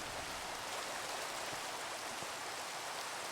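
Steady rain falls in a Minecraft world as a soft, even hiss of dense patter, constant and moderately quiet, with no voices.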